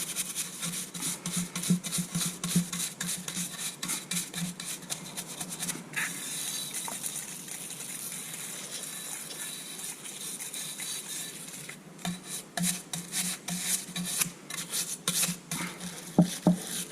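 A standard brush scrubs Rover 3.5 litre V8 oil pump parts soaked in brake cleaner, making a steady, close, continuous bristle rasp with quick repeated strokes and no talking.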